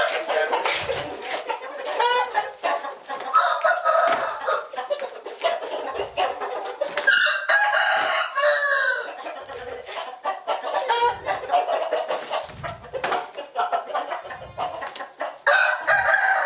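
Batoré chickens cluck steadily and crow repeatedly at close range, several birds overlapping in a busy, continuous barnyard chorus.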